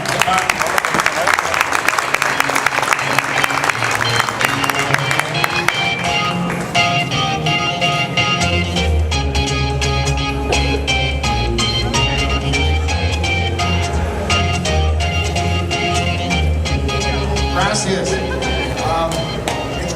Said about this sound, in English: a big round of applause, un aplauso grande para